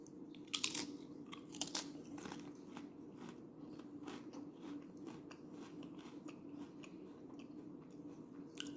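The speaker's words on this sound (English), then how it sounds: "These crackers are a vegetable cracker. Get a nice crunch to it." Dollar store vegetable crackers being bitten and chewed up close, with a couple of sharp crunches early on followed by steady, softer crackling mastication over a low hum.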